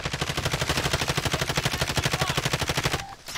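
Rapid automatic gunfire in Warzone Zombie Royale, a long even burst of evenly spaced shots close and loud, cutting off abruptly near the end.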